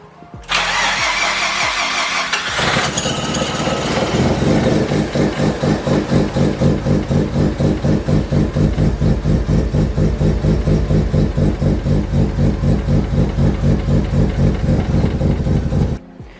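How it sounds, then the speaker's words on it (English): A Mazda RX-7 FD rotary engine cranks briefly and fires, then settles into a loud, steady, rhythmically pulsing idle that runs unbroken for over twelve seconds before cutting off, with no talking. "now I'm going to start her up, wait for those air bubbles to go down"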